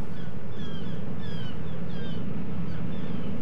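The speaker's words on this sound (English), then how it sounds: "Sounds like an engine" Steady low rumble of a ship's engine in a cartoon, continuous and loud, with faint chirping calls over it.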